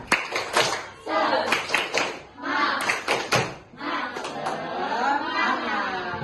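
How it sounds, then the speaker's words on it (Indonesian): Children in a classroom do a patterned clapping chant, bursts of quick claps in rhythm interleaved with voices chanting together, moderately loud and close. "kalau semangat kita tepuk semangat dulu. Tepuk semangat."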